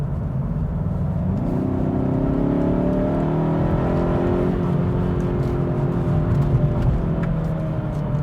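Inside a 2019 Kia ProCeed GT in sport mode, the engine note, boosted through a cabin sound actuator, drones and rises steadily in pitch as the car accelerates, a continuous loud hum with a slight dip midway.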